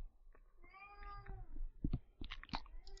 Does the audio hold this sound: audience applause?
no